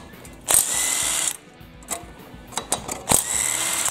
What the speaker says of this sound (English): now let me get a socket to take this off